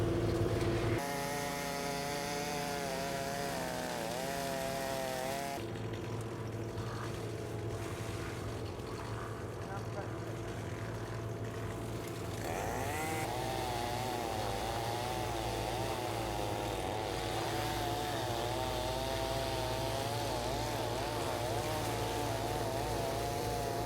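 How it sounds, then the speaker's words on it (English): A wood chipper running during yard cleanup of an overgrown lawn, a droning mechanical engine whine that shifts pitch as material feeds through, steady and fairly distant with no talk. "I think the chipper guys are started. I can hear that going."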